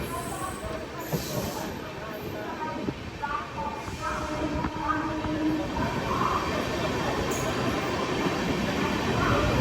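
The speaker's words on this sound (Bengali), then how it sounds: "কলকাতা থেকে হলদিবাড়ি থেকে এসছে ব্রিগেড চলো স্পেশাল ট্রেন।" The Brigade Chalo special passenger train from Haldibari to Kolkata rolls past with a continuous loud rumble and rattle of wheels on track, steady throughout.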